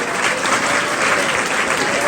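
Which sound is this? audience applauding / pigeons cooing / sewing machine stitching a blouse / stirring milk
audience applauding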